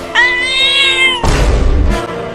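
A cartoon cat lets out a long, loud, drawn-out meow close up, followed by a noisy scuffle.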